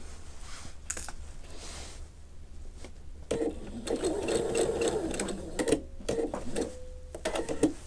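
Sewing machine stitching a curved quilt piece for a Drunkard's Path block, running in short bursts with pauses and soft handling clicks between, fairly quiet and close.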